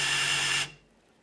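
An electric drill strains under load during work on a car with a V8 8.4 L 511 ci engine, a loud steady whirring that stops abruptly partway through and leaves near silence.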